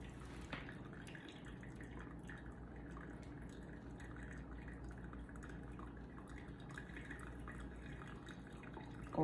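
Steady trickle of pour-over coffee dripping and pouring through a filter, a continuous soft splashing with faint bubbling, close by and without talk.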